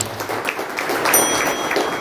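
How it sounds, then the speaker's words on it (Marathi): A crowd claps continuously in a steady, fairly loud wash of applause, sustained throughout without pause. "जोरदार टाळ्या होत्या"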